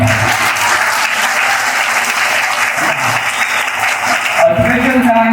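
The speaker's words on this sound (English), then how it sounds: "A huge round of applause and thanks to all the participants who made this day a memorable one." A school assembly audience at a Carmel Day celebration applauds in a sustained, dense wash of clapping that holds steady for several seconds, with a slight shift in texture near the end.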